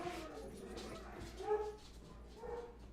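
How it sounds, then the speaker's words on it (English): Several pet dogs bark, yip and whimper indoors, agitated by a neighbor's dog outside, with a steady busy mix of yelps and whines and louder bursts near the middle and end. "the dogs are freaking out because my neighbor's dog is out there"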